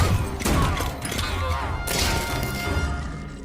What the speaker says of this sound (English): Stop banging on the ship.